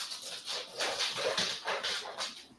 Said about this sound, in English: You got a dog flipping out back here.